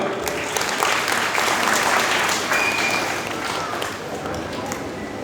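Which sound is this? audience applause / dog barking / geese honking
audience applause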